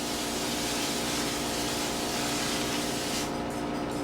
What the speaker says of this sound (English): Now we're gonna put this, spray this on top